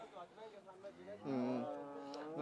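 At a cattle trader's yard with first-calf and second-calf cows, a low drawn-out moo rises clearly for about half a second amid nearby people talking.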